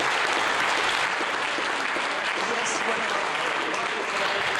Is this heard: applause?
yes